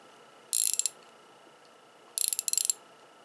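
A quarter-inch straight ratchet clicks in two quick bursts of rapid ratcheting, close and crisp, with a pause between them and no talking.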